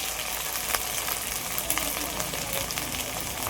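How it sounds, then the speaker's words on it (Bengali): A spice paste of ginger-garlic paste, tomato, salt and turmeric is sautéed in a pan before chicken goes in, giving a faint, steady sizzle with occasional stirring clicks. "মশলাটা তো ভালো করে একটু কষিয়ে নিয়েছি"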